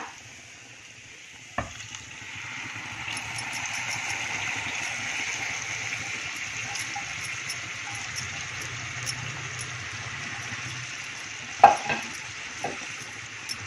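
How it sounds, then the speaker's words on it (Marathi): Steady sizzling as tamarind and jaggery are stirred in a pan for drumstick amti, a spoon scraping, with a couple of sharp clinks standing out over the constant frying hiss. "चिंच, गूळ असं एकसारखं परतत राहायचं, म्हणजे करपत नाही"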